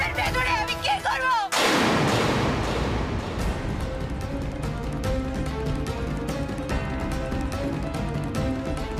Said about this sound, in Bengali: হ্যাঁ, ব্লাস্ট হয়ে গেছে